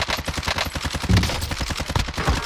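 Rapid automatic gunfire in Call of Duty Warzone (Cold War era), a dense, loud burst of closely spaced shots rattling without pause, with one heavier thump midway and no talk.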